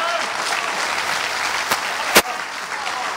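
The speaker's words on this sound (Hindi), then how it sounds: "जोरदार तालियां आप बजा दीजिए" Steady applause from an audience at an international mushaira poetry gathering in Houston, a dense wash of clapping with a couple of sharp louder claps standing out near the end.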